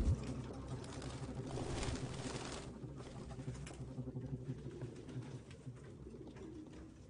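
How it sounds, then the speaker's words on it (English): Pigeons coo in Detroit: Become Human, a soft, low, repeated burbling from several birds nearby, steady throughout against a faint room background with a brief louder rustle at the start. "No human could live with all these fucking pigeons."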